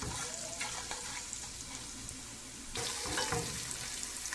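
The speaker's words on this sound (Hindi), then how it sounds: "इस सब को हम अच्छी तरह से मिक्स करके रोस्ट कर लेते हैं" Spiced chickpea rice being mixed and roasted in a pot, a steady close sizzle and scraping that grows louder and busier partway through, with no talking.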